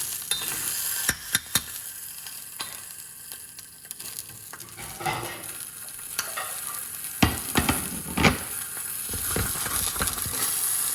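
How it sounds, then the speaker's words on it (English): Steady oil sizzle and frying crackle of scallops in a little oil run throughout, with occasional clinks and scrapes of a utensil in the pan; no voices. "frying these, just a tad of oil"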